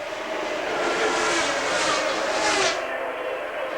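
A Formula 1 car's engine at the Monaco Grand Prix in Monte Carlo, including Piquet's car, a sustained high-pitched roar that rises and swells as the car passes and then drops away, heard at a moderate distance with no talking.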